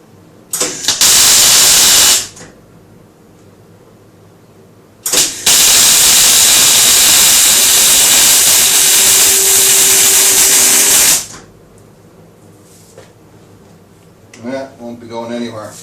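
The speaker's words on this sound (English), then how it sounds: "I can probably actually weld up the front side without any problem" Welding on the front side of a battery box during a BMW E39 EV conversion, with a loud steady hissing crackle in two long bursts. Someone speaks briefly afterward.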